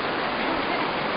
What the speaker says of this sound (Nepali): खोलो यसरी बगेको छ,